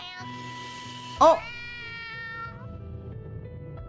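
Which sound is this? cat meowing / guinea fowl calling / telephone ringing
cat meowing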